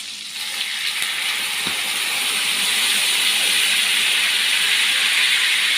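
Half a glass of water poured into a hot pan of sautéed spiced chicken gizzards, a loud, close, steady steam hiss that swells after a short splash and keeps roaring without letting up, no talk.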